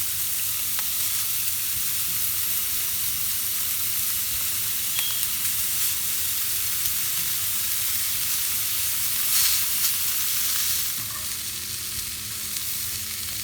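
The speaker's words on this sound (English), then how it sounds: "This is a iron pan, so it retains its heat. So I want my bacon to be singed on all sides." Bacon sizzles in a hot iron pan with a steady, crackling hiss that holds at an even level throughout, close up and with no talking.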